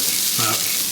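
Food sizzling in a pan while being stirred, with Old Bay seasoning just added; a loud continuous frying hiss over a single brief scrape.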